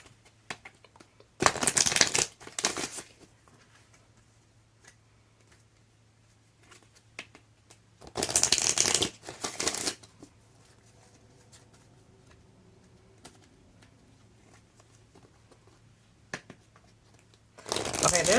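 Moonology oracle cards being shuffled: three separate bursts of crisp riffling, a couple of seconds each, spaced apart by quiet stretches that hold faint light handling noises and a low steady hum.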